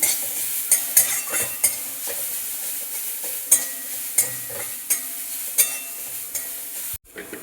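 Carrot and cabbage frying in a pan, a steady sizzle punctuated by regular scraping and clanking strokes of a stirring spoon against the metal, close and without speech, cutting off briefly near the end.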